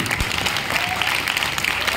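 Applause from a seminar audience runs continuously, a dense wash of clapping hands that stays even and fairly loud throughout, with some speech mixed into the crowd noise.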